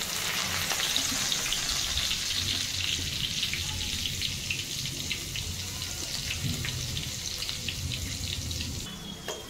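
Poha chivda sizzles steadily in hot oil as mint leaves go into the pan, a continuous close frying crackle with occasional stirring.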